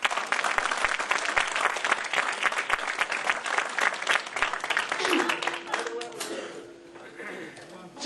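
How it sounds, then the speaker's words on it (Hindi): Loud crowd applause at a talent show grand finale, dense clapping for several seconds that thins and fades toward the end, with some voices and a faint tone emerging underneath. "जोरदार तालियां उनके लिए भी।"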